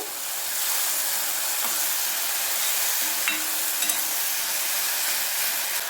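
Tomato puree frying in a pan gives a continuous close sizzle and hiss, steady throughout, with a few faint stirring scrapes and taps and no talking.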